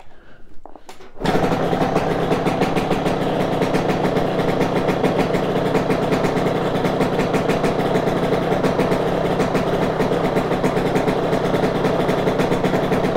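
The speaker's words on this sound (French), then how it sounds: "Pour moi, là, la moto, elle tourne super bien." After a brief quiet moment, a motorcycle engine starts idling with a steady, rapid thumping putter that stays constant and close.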